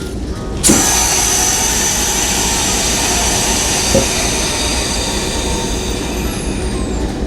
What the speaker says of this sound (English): I'm now going to replicate a full application from the driver or from a brake in the train.